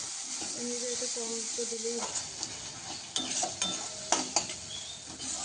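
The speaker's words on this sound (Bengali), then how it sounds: "সমস্ত মশলা এবার ভালো করে কষে নেব" Spice paste with chopped tomatoes and chilli powder being fried in a pan for patol chingri, a constant sizzle and hiss with a few utensil scrapes and knocks against the pan near the end; tonal hum early on.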